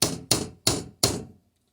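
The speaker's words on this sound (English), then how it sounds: "I'm going to use my improvised hammer here." Four sharp metallic taps from an improvised hammer strike a clamp on a Can-Am 450 fuel pump, evenly spaced about a third of a second apart, close and crisp, each ringing briefly before fading to quiet.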